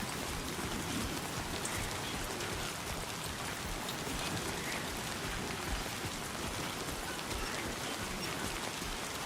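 Rain falls steadily in a package delivery video game, a soft, dense, even patter that runs unbroken throughout at low level, with no speech.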